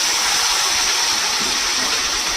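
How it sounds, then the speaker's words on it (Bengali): Nigella seeds sizzling in hot oil in a pan, a loud, steady bright hiss and crackle holding evenly from start to finish, with no speech over it. "প্রথমে তেল দিয়ে কালো জিরে ফোড়ন দিয়ে দিলাম"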